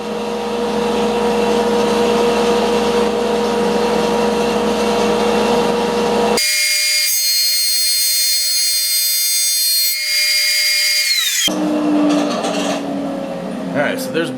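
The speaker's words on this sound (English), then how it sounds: "so there's both sides planed down" A planer works a woven cutting board with a steady, loud machine drone. The drone cuts off abruptly, leaving a sustained high electric whine that slowly winds down, then rougher machine noise returns.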